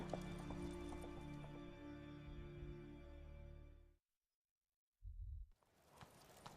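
A horse in The Witcher 3 game clip-clops along at a brisk pace under game music for about four seconds, then goes quiet before a short burst of hoof and movement sound returns.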